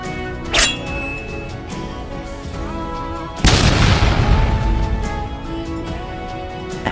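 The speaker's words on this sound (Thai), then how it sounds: "ใช้ระเบิดที่รุนแรงที่สุดของคุณ" A small pop comes first, then a loud bomb blast bursts out and rumbles, its roar decaying slowly over several seconds.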